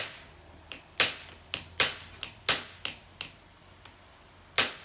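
Hammer blows on the piston of a 1984 Honda C70 motorcycle, about ten sharp metallic strikes in an uneven rhythm, close and crisp, with no talking.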